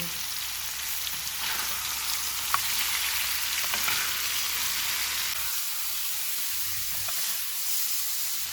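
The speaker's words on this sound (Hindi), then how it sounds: "एक टमाटर, 2 सब्ज़ मिर्चें। इनको 2 से 3 मिनट तक पकाएंगे।" Chopped tomato, onion and green chillies sizzle in a hot pan while cooking for keema kabab, a steady close crackling fry with occasional stirring clinks and no talk.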